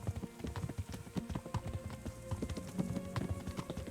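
Horse hooves galloping in the medieval game Kingdom Come: Deliverance, a steady run of close, rhythmic clip-clop beats that continues throughout.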